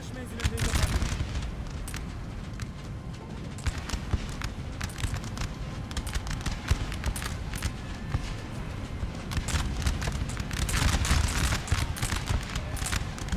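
Musket volleys from soldiers in Napoleon: Total War, ragged crackling gunfire and booming shots in irregular bursts, some overlapping into rolling fusillades, with battle noise throughout.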